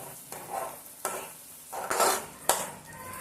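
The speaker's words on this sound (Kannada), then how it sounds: "ನೋಡಿ ಇವಾಗ ಇದಕ್ಕೆ ನಾನು ಮೊಟ್ಟೆನ ಹಾಕ್ತಾ ಇದ್ದೀನಿ." Eggs for egg rice sizzle in a pan while a spoon stirs and scrapes against the metal in a few sharp clinks over a steady frying hiss.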